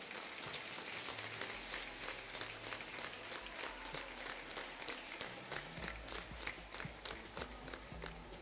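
Applause from the audience at a prize-giving ceremony during a gymnastics memorial trophy event, where scholarships are handed to winners; steady dense clapping throughout, moderately loud with crowd noise and a low hum underneath.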